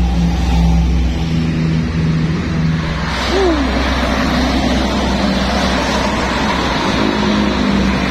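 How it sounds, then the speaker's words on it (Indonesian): A Budiman bus with an Adi Putro Jet Plus 13 body and Mercedes engine rumbles loudly and continuously up close, a steady low drone with a brief horn-like tone early on and a slight rise midway. "Budiman dengan bodi Adi Putro Jet Plus 13 dengan mesin Mercedes."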